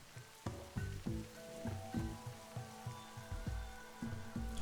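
Rain falls in the RimWorld video game, a steady patter over a soft bed of noise, with regular low thumping and tonal blips recurring underneath at a moderate volume and no voices.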